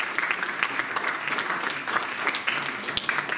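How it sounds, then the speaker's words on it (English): An audience at a Great Neck town hall applauds Congressman Gary Ackerman. The clapping is steady and sustained from a sizable room, with no talking. "Let's give Gary Ackerman a round of applause for a great life in public service."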